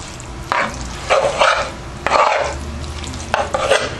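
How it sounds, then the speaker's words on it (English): Food in a pot stirred in several bursts, with loud, close scraping and sloshing swirls separated by short pauses. "I'm gonna stir it around."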